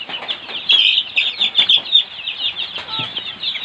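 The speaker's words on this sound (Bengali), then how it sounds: "ওই যে একটা মুরগি ওইখানে যায় বসে গেছে।" Young Egyptian Fayoumi chickens about a month old cluck and chirp in high, rapid bursts, a small flock close by with overlapping calls.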